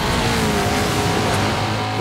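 A race car in the Forza Street video game roars continuously while accelerating, with a loud, dense engine and tire noise throughout.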